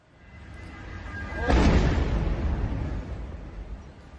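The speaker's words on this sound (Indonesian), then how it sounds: "Dentuman kencang dari ledakan tangki bensin" A deep, heavy explosion of a gasoline tank booms suddenly after a rising rumble, then a long roaring blast decays slowly, heard from a distance.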